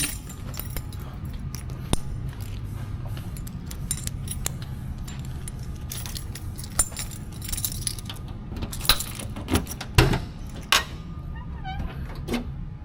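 Metal car keys jangle and clink in short scattered bursts at a 1972 Buick Skylark, picked up near the trunk, with a steady low background hum and a louder clatter toward the end.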